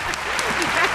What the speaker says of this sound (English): Give her the hand claps.